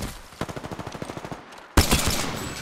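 Rapid automatic gunfire in Apex Legends, a quick rhythmic string of shots that thins briefly before a louder, closer blast and renewed firing.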